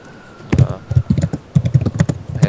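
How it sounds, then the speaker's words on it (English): Irregular keyboard clicks tapping away during a Minecraft Tekkit online voice chat, close and fairly loud in quick uneven bursts with short pauses, no voices over them. "I hear someone typing"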